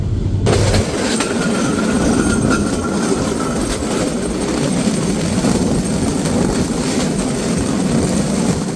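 Shimanta Express (748) from Khulna entering Sabdarpur railway station, heard from inside near the coach door: a loud, continuous rumble and rattle of wheels on track with a faint squeal, no voices.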